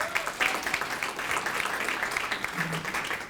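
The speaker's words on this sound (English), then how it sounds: "So give him a round of applause for that." Sustained applause from an audience honoring a police sergeant, steady dense clapping throughout at moderate distance.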